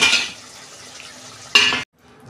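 A cooking pan lid lifted during vegetarian chilli paneer preparation, a short burst of sizzling steam at the start and again near the end, then a sudden cut to near silence.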